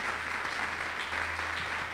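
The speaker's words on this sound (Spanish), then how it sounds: "Denle un aplauso a la palabra del Señor bien fuerte." A church congregation applauds in praise of a sermon reading, a steady, dense wash of clapping filling the room at constant loudness, with no voices standing out.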